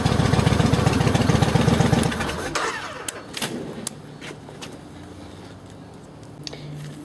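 A Yamaha Raider motorcycle with a fuel pump fault runs with a loud, steady throbbing for about two seconds, then the sound drops to a quieter idle and scattered clicks and knocks.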